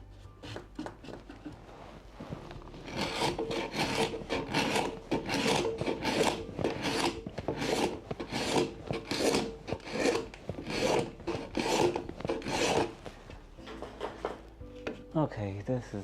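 A steel card scraper drawn across the wood of a door under restoration gives a long series of rhythmic rasping strokes, close and fairly loud, that trail off toward the end.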